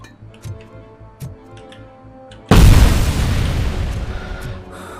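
Gunfire in the Robocop: Rogue City video game: faint ticking and small pops first, then a sudden loud blast at the midpoint that turns into a dense, sustained roar of shooting and rumble which slowly fades.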